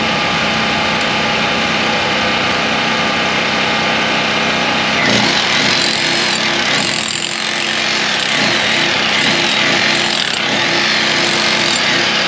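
A small jackhammer chatters continuously and loudly, chipping a concrete curb, its rapid pounding growing harsher in bursts midway through, with no voices.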